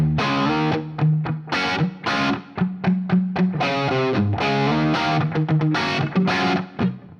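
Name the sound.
guitar pedal room sound effect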